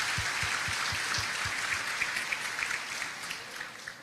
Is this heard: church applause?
yes